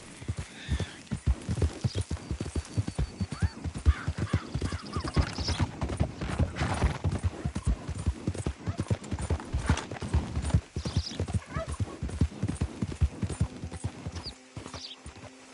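A horse in Red Dead Redemption 2 gallops with a fast, steady clip-clop of hooves that runs nearly the whole time, fairly close and loud, easing off near the end.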